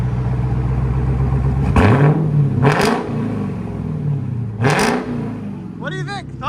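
A straight-piped Dodge Charger Hellcat Redeye wide body revs in loud, rising bursts over a steady rumbling idle, with three sharp throttle blips standing out, followed by a short whirring tail.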